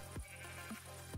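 Sheep in the Minecraft video game bleat twice in quick succession, short nasal calls close by over a quiet in-game background.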